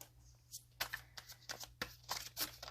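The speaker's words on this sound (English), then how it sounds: "I'm going to keep shuffling" Tarot cards are shuffled in quick, uneven bursts of papery flicks and riffles, close and fairly quiet, with a low steady hum underneath.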